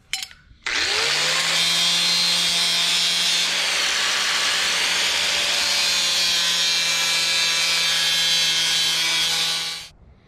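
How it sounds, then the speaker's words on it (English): A power sanding disc grinds continuously against a metal bearing for about nine seconds, a loud, steady whine with a bright, harsh edge, close up and without talk. "just grind this down with the sanding disc until the bearing is more exposed"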